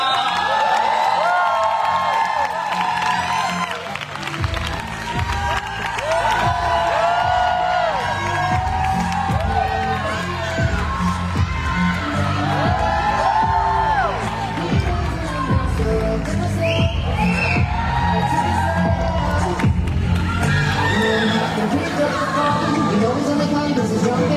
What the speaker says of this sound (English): Big applause for Neila.